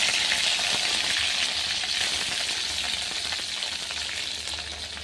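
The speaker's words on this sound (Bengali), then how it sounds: "মোরলা মাছের শুকটিটা লাল করে ভেজে নেব।" Dried morola fish fries in hot oil in a wok, giving a steady, loud, close sizzle that barely changes throughout, with no talking.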